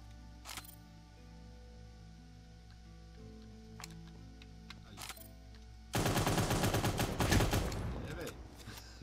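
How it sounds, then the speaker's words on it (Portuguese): Gunfire in the Cyber Hunter video game: faint, sporadic distant shots over a low steady hum, then a loud, dense burst of rapid automatic fire lasting about three seconds. "Agora eu ouvi um barulho de tiro."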